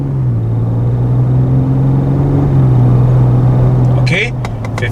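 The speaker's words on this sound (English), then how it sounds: "So, we're driving at 50 kilometers per hour." A 2023 Ford Ranger Raptor cruising at 50 km/h gives a steady low engine drone and road rumble from inside the cabin, with a slight pitch shift. Sharp clicks and knocks come in near the end.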